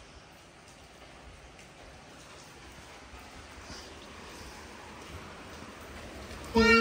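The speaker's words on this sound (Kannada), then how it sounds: "ಮಳೆ ಹೇಗೆ ಬರ್ತಿದೆ ಅಂತ ನೋಡ್ತಿದ್ಯಾ ನೀನು?" Rain falls as a steady, soft hiss that stays even and fairly faint throughout, with a short louder knock right at the end.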